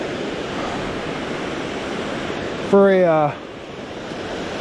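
Water pours at Cathey's Creek Falls with a constant rushing roar close by. A voice cuts in briefly near the end over the steady flow.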